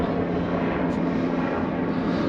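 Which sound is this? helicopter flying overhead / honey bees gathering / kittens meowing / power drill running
helicopter flying overhead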